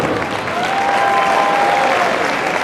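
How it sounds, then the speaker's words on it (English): A high school gym crowd gives loud, sustained applause for senior basketball players and cheerleaders at a boys' game, a dense roar of clapping with a faint whistle riding over it. "How about a big round of applause for all of our senior basketball players and cheerleaders?"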